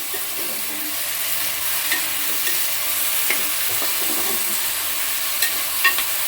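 Brinjal, onion and tomato fry in hot oil, a steady close sizzle with occasional stirring scrapes and small pops, no voices.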